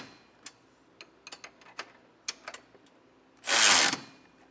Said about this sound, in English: Now for our horizontal bolts, we'll be using a 3/4 inch or 19mm socket and wrench,